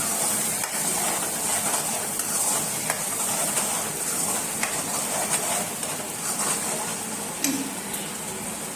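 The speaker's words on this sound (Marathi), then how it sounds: "तर मी इथे 2 टीस्पून अद्रक लसूणची पेस्ट घालते" Ginger garlic paste, two tablespoons, sizzles and fries in a hot pan with a steady hiss and occasional stirring scrapes, close and continuous throughout.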